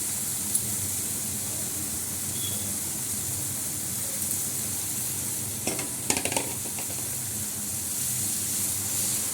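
Leafy greens (shak) frying in a pan, a steady soft sizzle and hiss throughout with a few brief clatters of stirring partway through.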